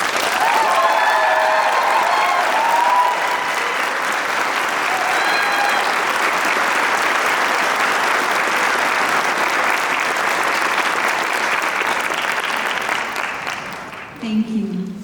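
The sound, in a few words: applause at a college commencement ceremony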